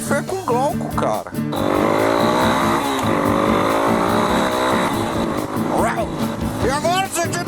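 A Yamaha XTZ Lander 250 motorcycle accelerating hard on the road, its engine pitch sweeping up through the gears with wind rush, while a person talks over it.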